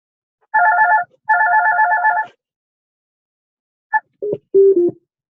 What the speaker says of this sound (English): I had a phone call come in